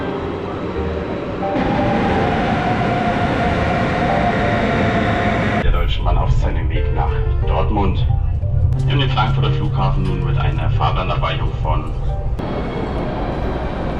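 Low rumble of a train at a railway station platform near an airport, with a steady hum and voices talking nearby throughout.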